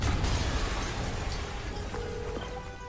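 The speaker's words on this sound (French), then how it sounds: "une explosion à" An explosion goes off in the Spider-Man video game: a sharp burst at the start, then a loud, dense roar and rumble that holds for nearly three seconds, with no speech.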